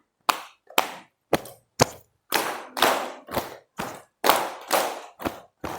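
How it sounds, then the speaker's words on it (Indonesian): Rhythmic clapping game in a primary school class, with pupils following the teacher's pattern: about eleven sharp, loud claps in a patterned beat, some single and some in quick doubled groups, with no talk over them. "tepuk konsentrasinya ikutin Bu Guru nadanya"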